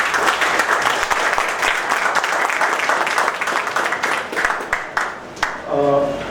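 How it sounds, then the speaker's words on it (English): An audience at a business meeting claps in steady, loud applause that runs throughout, thinning slightly toward the end as a voice briefly cuts in. "A big round of applause."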